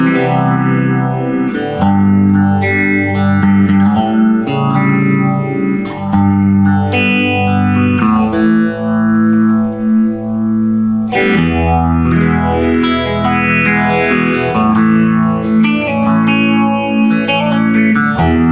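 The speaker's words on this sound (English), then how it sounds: "The middle position has a really nice sound to it." A Squier Classic Vibe 60s Custom Telecaster electric guitar played on the middle pickup position through effects with distortion and chorus, strummed chords and melodic lines ringing loud and sustained, no talking.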